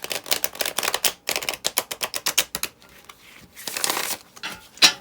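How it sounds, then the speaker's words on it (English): Tarot cards shuffled by hand in a quick run of crisp riffling clicks and flutters, then a pause and a softer burst of card shuffling, close and alone with no talk. "I'm just going to give these cards a shuffle."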